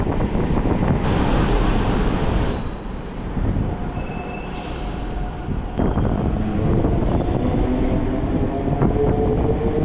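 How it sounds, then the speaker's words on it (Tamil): A Chennai MRTS suburban train rumbles steadily nearby, with rattling carriages and brief metallic wheel squeals as it rolls into Kotturpuram station and slows. "இப்போது ட்ரெயின் உள்ள என்ட்ரா வருது கோட்டூர்புரம் ரயில்வே ஸ்டேஷன்"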